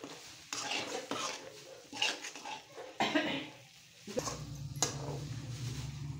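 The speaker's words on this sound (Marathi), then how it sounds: "अशा प्रकारे तेल सुटेपर्यंत मसाले परतायचे" Spices for paneer masala are stirred in oil, mostly clattering spoon-on-pan scrapes and knocks, with a steadier frying hiss settling in toward the end.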